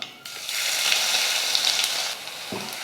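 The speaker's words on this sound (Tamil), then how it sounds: "பூண்டு நல்லா வதங்கட்டும்" Garlic sizzles steadily in hot oil in a pan for mushroom gravy, a bright crackling hiss with occasional scrapes and clicks of stirring.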